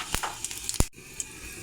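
Panch phoron and bay leaves sizzling in hot oil, a soft steady hiss broken by a few sharp clicks and spoon taps, one louder knock near the middle.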